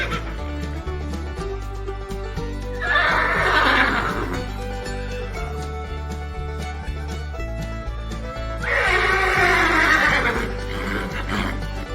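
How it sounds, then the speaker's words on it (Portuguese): A farm-animal pony neighs twice in long, loud whinnies separated by a few seconds, over a steady rhythmic music background. "Pônei, pônei."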